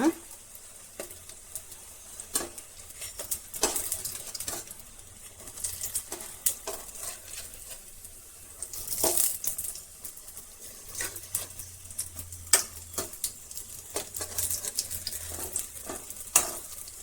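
Okra frying on a flat pan over half flame, a steady soft sizzle with clicks and scrapes as the pieces are turned, close up and without talk.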